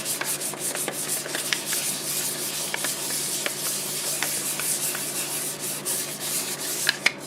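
Steady abrasive rubbing of sandpaper against a turned maple wood bowl spinning on a lathe, a continuous close hiss with faint scratchy ticks, no talking.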